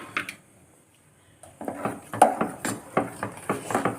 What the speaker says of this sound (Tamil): நல்லா கட்டி இல்லாமல் நம்ம கைவிடாமல் கிண்டிக்கிட்டே இருப்போம்